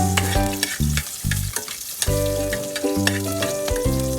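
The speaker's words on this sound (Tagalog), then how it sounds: "ilagay na natin yung bawang. Bawang and sibuyas." Garlic and onion fry in a hot pan, a bright, crackling sizzle running throughout, with louder pops and spatters scattered across the sizzle and a tonal background hum underneath.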